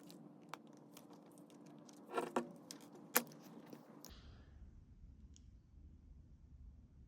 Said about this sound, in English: take a small flathead screwdriver and pry out all 3 of these cams